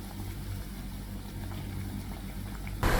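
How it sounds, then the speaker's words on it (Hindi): Pakoras fry in hot oil for coconut kadhi with a steady, dense bubbling hiss that holds evenly throughout, then briefly swells louder at the very end. "धीरे धीरे हम सारे पकौड़े पलटेंगे ताकि हर तरफ से ये अच्छी तरह फ्राई हो जाए"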